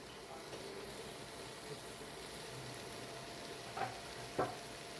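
Ivy gourd and cauliflower sauté in a pan with a soft, steady sizzle and a couple of brief stirring scrapes, close but quiet.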